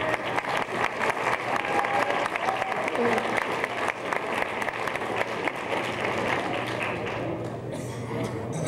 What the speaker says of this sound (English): Could they please stand for a round of applause?